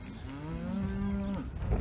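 A cow or bull on a pasture with yearling bulls and cows gives one long, loud, close moo with a falling pitch at the end, heard alone without talk.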